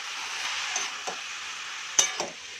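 Spoon or spatula stirring cabbage, potato and pea curry in a pan over medium heat, with a soft steady sizzle and a few brief scraping strokes, close and moderately loud.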